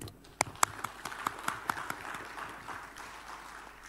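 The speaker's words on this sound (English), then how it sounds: "let us give a big applause for the speaker" A conference audience at a maritime forum claps for a speaker, with a few sharp, distinct claps at first that quickly blend into a steady, moderate spread of applause before fading.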